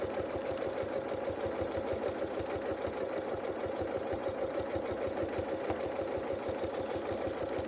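Sewing machine free-motion quilting paisleys, its needle running in a fast, even mechanical chatter with a steady hum, close and continuous, no talking.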